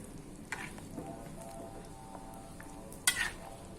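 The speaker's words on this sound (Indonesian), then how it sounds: "boleh sesekali sambil diaduk gini biar nggak angus yang bagian bawah." A spoon stirs beef krengsengan in a pot, giving scraping and clinking sounds over a soft simmering hiss, with one sharper metallic knock near the end and no talk.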